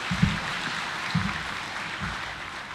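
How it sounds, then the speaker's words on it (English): Round of applause for His Excellency at the 18th COMESA Business Forum at KICC, Nairobi, a steady wash of clapping from a large hall audience, with three low thumps recurring about once per second underneath. "as we give His Excellency another round of applause"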